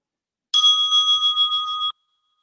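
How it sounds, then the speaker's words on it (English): A single meditation closing bell rings clear and bright, holding a steady tone for over a second before stopping abruptly, alone in otherwise silent surroundings. "you'll hear a closing bell"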